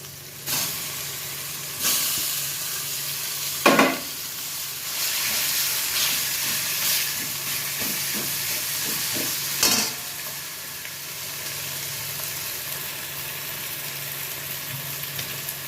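Ginger and green chili, then eggplant, fry and are stirred in a pan, giving a continuous hissing sizzle with occasional louder scrapes and knocks of a spoon; no one speaks.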